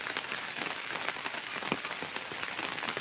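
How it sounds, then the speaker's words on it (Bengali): Heavy rain pours down steadily at Khan Agro Farm in rural Muksudpur, a dense, even hiss of countless drops striking surfaces nearby, with scattered sharper spatters and no voices. "দর্শক দেখেন প্রচুর বৃষ্টি প্রচুর বৃষ্টি"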